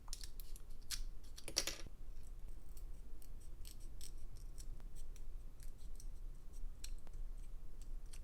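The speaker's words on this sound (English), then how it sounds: "These are embroidery scissors." Cheap embroidery scissors snip at acrylic nail tips from a DIY kit, a burst of sharp close clicks early on followed by scattered light snips and ticks at irregular intervals, quiet and without speech.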